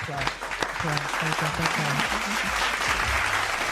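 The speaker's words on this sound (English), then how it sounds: "Big applause, guys." An audience at a live evening show claps, while a voice talks briefly over the applause, moderately loud and steady through the short stretch.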